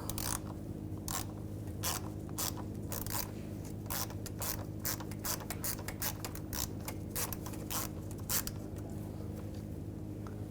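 A T30 socket removing a screw on a Volkswagen Jetta, a quiet irregular series of sharp ratcheting clicks and scrapes over a low steady hum, close up, with no talking.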